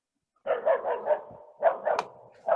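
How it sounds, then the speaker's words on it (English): A dog barks in a quick run of four or five yips, pauses, then lets out a few more, fairly close and loud, with no talk over it. "There is a dog over there."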